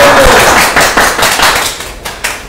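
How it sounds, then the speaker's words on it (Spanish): Loud, close clapping from a small studio audience welcoming the interns on a show, separate sharp claps and thumps that fade toward the end. "vamos a darles un fuerte aplauso a nuestros interns"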